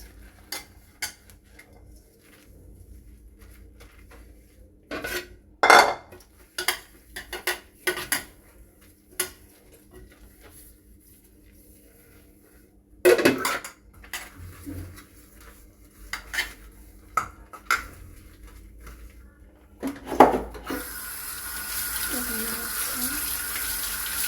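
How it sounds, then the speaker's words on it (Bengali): Plates and bowls are washed at a kitchen sink, with irregular clinks and clatters of dishes and cutlery over running tap water that grows louder near the end, and a voice heard faintly at times. "থালা বাটিগুলো একটু ধুয়ে নিচ্ছি"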